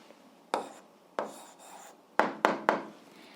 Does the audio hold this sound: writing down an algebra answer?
yes